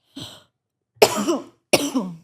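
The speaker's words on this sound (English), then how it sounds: "Sorry, I randomly have a cough." A person coughs three separate times, a short soft cough followed by two louder, harsher bursts spaced under a second apart, close to the listener with no talking.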